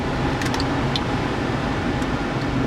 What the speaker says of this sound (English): me turn the fan off so you can hear me